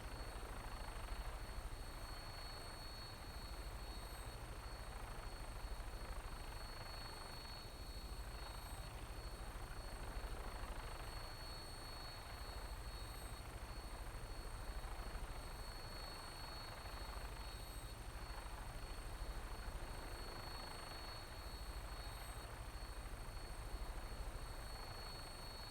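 A vertibird aircraft in Fallout 4 comes in to land, giving a continuous low rotor drone with a steady engine whine that holds at an even, moderate level throughout, and no talk.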